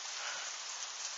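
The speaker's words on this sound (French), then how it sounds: "c'est un petit grésil fin qui tombe avec un peu de pluie" Fine sleet mixed with light rain falling in Tour-en-Sologne in December, a steady, soft, even hiss of tiny pellets and drops with no distinct individual hits, faint and continuous.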